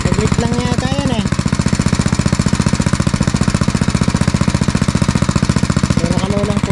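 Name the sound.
engine-powered machine driving a well pipe into ground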